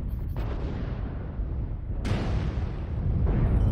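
Battlemech weapons firing in MechWarrior Online, heavy booming shots and a sharp blast over a constant rumbling battlefield roar, with the noise swelling loud and continuous.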